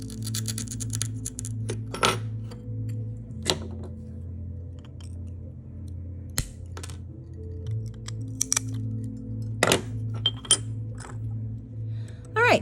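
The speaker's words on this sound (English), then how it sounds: "I'm probably going to be using my Grozing pliers for the rest" Grozing pliers nibble slivers off a curved piece of glass, giving sharp, scattered clinks and snaps at irregular intervals over a steady low electrical hum.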